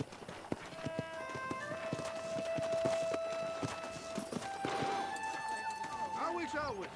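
Horse hooves clip-clop in a steady walking rhythm in the Red Dead Redemption video game, moderately close, under soft sustained music tones and a brief voice toward the end.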